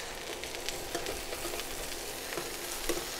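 Leftover mashed potato fry-up browning in a pan, a soft continuous sizzle with a few light scraping taps from a spatula, close but fairly quiet, with no talking.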